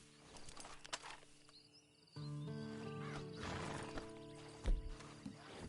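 A horse in the Red Dead Redemption 2 video game whinnies loudly and close, then its hooves clip-clop in a steady walking rhythm with a sharp thump near the end, set against a faint outdoor ambience.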